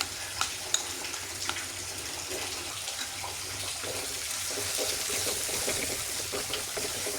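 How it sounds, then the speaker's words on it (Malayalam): Chili and turmeric paste sizzles in hot oil with ginger, garlic and shallots for a Kerala-style tuna curry, a steady close frying hiss with faint stirring clicks and no talk. "നമുക്കിതിലേക്ക് മുളക്, മഞ്ഞൾപ്പൊടി പേസ്റ്റ് ആഡ് ചെയ്ത് കൊടുക്കാം."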